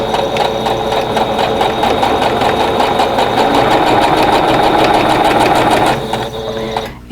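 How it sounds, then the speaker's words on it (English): A sewing machine stitches a quarter-inch seam on quilt block pieces steadily and rapidly at close range for about six seconds, then slows and stops near the end. "So we'll go to the sewing machine and do that."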